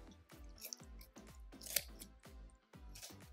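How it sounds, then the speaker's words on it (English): Kitchen scissors snip repeatedly through chicken backbone, close up. Roughly eight crunchy cuts come in a steady rhythm with no talking. "for the backbone, I'm gonna use my kitchen scissors"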